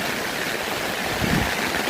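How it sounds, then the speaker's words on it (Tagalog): Floodwater rushes strongly through a stream during heavy rain, a loud, steady, close roar of churning water with a low rumble swelling briefly near the end. "Nagkusog na ang baha mga idol"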